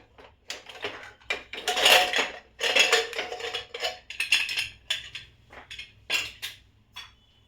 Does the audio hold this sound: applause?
no